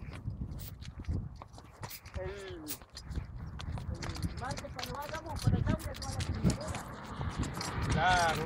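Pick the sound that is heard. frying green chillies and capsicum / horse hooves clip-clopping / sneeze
horse hooves clip-clopping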